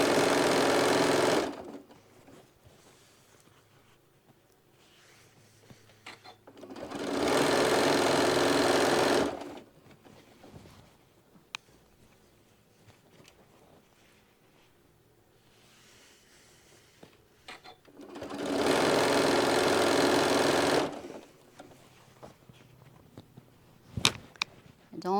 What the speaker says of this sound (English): there's going to be a lot of stitching